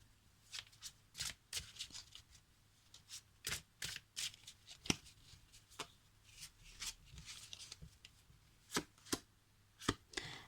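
Tarot cards being shuffled by hand before a draw, a series of crisp riffling bursts and sharp slaps at irregular intervals, close and fairly quiet with no talking.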